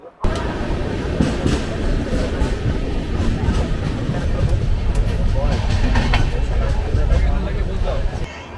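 Crowded 12345 Howrah–Guwahati Saraighat Express running, a loud continuous rumble and rattle of the carriage with rhythmic clacking, under a murmur of passenger chatter.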